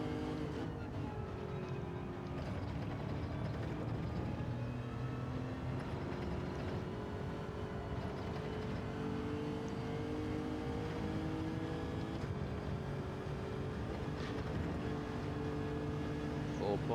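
Lexus RC F GT3 race car in Gran Turismo 7 at Lago Maggiore, its engine droning loudly and continuously with revs climbing and falling through gear changes, while a voice talks over it.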